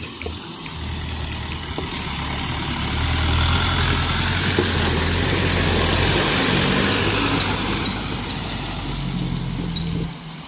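A tipper truck's diesel engine runs steadily at a stone dumping site, a loud continuous low rumble that swells slightly mid-way and holds without any speech.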